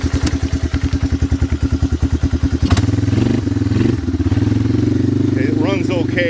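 A lawn mower engine fitted with a Chinese carburetor runs close by, pulsing in a rough, rapid chug for a few seconds before settling into a steadier, louder drone.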